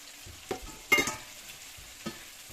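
Beans, carrot and green chilli frying in a pan for bread poha, a quiet low sizzle with a few brief spatula stirs and scrapes, close and soft.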